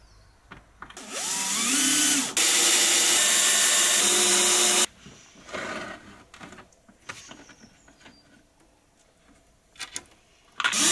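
A power tool drives screws into holes on a Land Rover Defender camper conversion: a loud whirring burst climbing in pitch, a brief pause, another sustained run, then scattered clatter of handling and tool noises.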